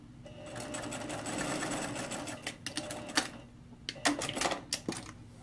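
Sewing machine stitching fabric with a quarter-inch seam, a steady whirring run of needle strokes for several seconds, then shorter stop-start bursts and clicks toward the end, close and fairly quiet.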